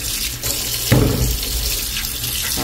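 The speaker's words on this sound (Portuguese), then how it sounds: "Lavar bem. Enxaguar bem enxaguadinho." Tap water running over food in a kitchen sieve while rinsing, a steady loud splashing flow with a brief stronger gush partway through.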